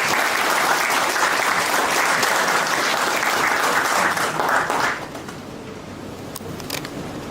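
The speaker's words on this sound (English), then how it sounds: "with a huge round of applause to deliver the welcome address" A large audience at a Bangalore business school orientation programme applauds in a steady, dense wash of clapping that fades down to scattered claps near the end.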